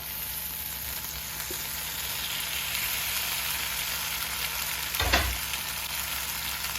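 Chicken pasta simmering in sauce over a high flame gives a steady, even sizzle throughout, with one brief louder scrape or stir about five seconds in.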